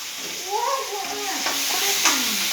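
Chopped bottle gourd fries in oil for sorekai palya, making a steady sizzle close by. A high, wavering meow-like call, probably a cat, rises over it.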